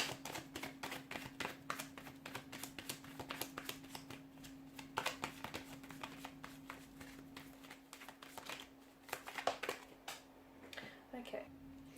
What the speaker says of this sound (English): let's go ahead and give the cards a shuffle